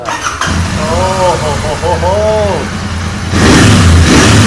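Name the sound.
Royal Enfield Continental GT 650 motorcycle engine starting and revving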